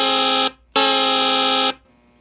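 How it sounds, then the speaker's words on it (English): A 1980s electronic train sound board sounds an oscillator tone like a train horn: two loud, steady, buzzy blasts, a short one then a longer one after a brief gap, close and with no talk. "one of the tones that this produces is closest to a train horn is this one here"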